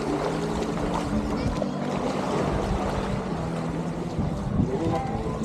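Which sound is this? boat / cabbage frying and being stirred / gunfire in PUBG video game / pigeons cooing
boat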